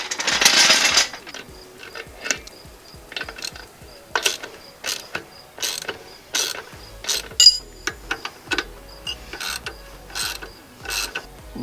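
A ratchet tightens a bolt on a motorcycle rear shock during installation, giving quick runs of close, crisp clicks in bursts with pauses and occasional metallic taps, no talk.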